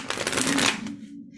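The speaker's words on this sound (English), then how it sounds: "hold one moment while I shuffle" Tarot cards are shuffled by hand in a quick run of papery riffles and slaps, close and fairly soft, before settling into quiet.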